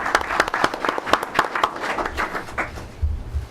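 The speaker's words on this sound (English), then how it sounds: "That deserves another round of applause." A short round of applause from attendees at a school district board of education meeting, a few seconds of scattered, fairly close hand claps fading out toward the end.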